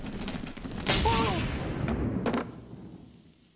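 Gunshot in an episode of the Gargoyles cartoon: one sharp report with a reverberant tail in the middle of a busy soundtrack, then a few softer impacts, with voices talking over it.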